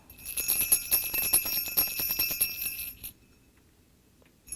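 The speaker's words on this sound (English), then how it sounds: "I have a bell here. Can you hear the bell?" A small bell is shaken rapidly for about three seconds with a bright, ringing jingle, then stops abruptly, leaving near silence.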